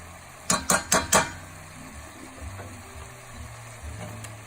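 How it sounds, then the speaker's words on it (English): Spoon scraping and clinking in a pot of South African chicken giblets curry with mixed masala, four quick close knocks in a row followed by quiet low rumbling. "And then you want to stir it up."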